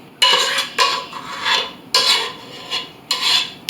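A spoon scrapes pastitsio filling out of a hot pan in several quick, gritty strokes, loud and close, with short pauses between them.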